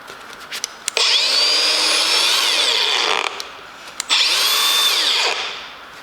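A cordless brushless battery angle grinder whines loudly at high speed in two long runs, each spinning up and winding down, with short clicks and brief pauses between them and no talking.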